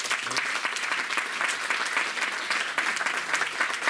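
Sustained applause from a lecture audience, a dense steady clatter of many hands clapping together without pause, fairly close and filling the room, with no speech over it.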